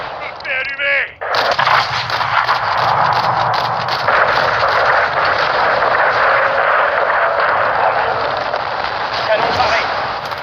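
A loud, sustained barrage of booming tank cannon fire and explosions in the video game Call of Duty Modern Warfare 2 fills the whole stretch, with a brief voice at the start.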